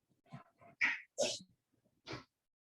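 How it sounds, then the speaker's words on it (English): A person sneezes off camera before a virtual cooking class, with a few short sharp bursts close by and quiet breathy sounds between them. "Sneeze off camera, guys."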